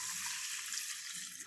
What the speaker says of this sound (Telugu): ఇలా రైస్ వేసేసిన తర్వాత వాటర్ వేసుకొని